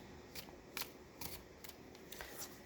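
Tarot cards are shuffled in a series of brief, brisk riffling bursts, about six soft rustles spaced through a quiet room with no voice.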